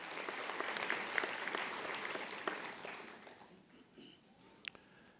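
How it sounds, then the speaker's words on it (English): A crowd at a spring nursing convocation gives a round of applause for a faculty member, a full wash of clapping that fades over the last couple of seconds into scattered claps and room noise. "Let's give Dr. Sasser a round of applause as well."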